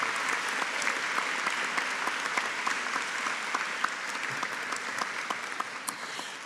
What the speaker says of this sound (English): I think all our graduates today on our graduate programme deserve a massive round of applause